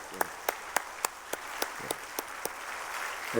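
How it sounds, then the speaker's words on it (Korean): A church congregation at a Wednesday service claps together in thanks to the preacher, with sharp, evenly spaced claps on a steady beat over a soft background wash of the crowd. "우진성 목사님께 뜨거운 박수로 감사하십시다"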